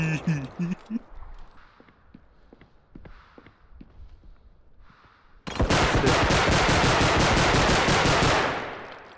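Gunfire in the shooter game Bodycam: a few scattered single shots and footsteps under talking, then a long, loud, continuous automatic burst that fires rapidly for about four seconds before cutting off.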